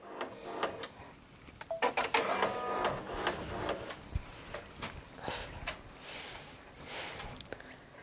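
A Brother Entrepreneur Pro X PR1055X 10-needle embroidery machine stitching at high speed, a fast mechanical clatter with rapid ticks and whirs, fairly close and steady, with no talking.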